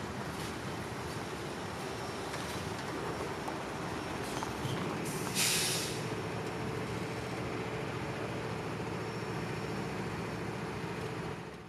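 CSX southbound freight train passing on the main line in Kentucky, a steady broad rolling roar of wheels and cars that holds evenly throughout, with a brief hiss-like burst partway through.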